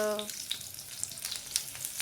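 Mustard seeds and asafoetida sizzle in hot oil for a cabbage stir-fry tempering, a steady soft crackle at close range with a few sharp pops and a brief tonal hum at the start.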